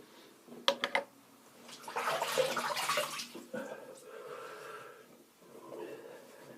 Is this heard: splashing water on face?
yes